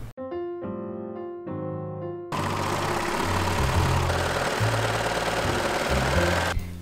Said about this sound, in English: I put a time lapse of me sewing all these strips together.